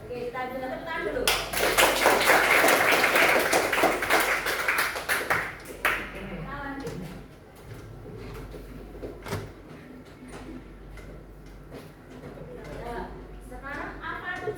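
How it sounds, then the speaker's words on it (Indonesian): A school class claps hands together in a classroom, a loud burst of dense clapping for several seconds that tapers off, followed by a teacher speaking with scattered taps. "kita juga tepuk tangan dulu"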